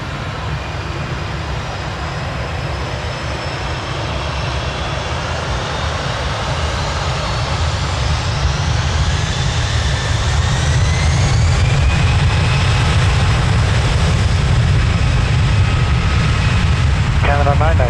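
A jet airliner on approach to land on runway 24 left at Toronto Pearson airport, a loud steady engine roar with a rising whine, heard continuously throughout.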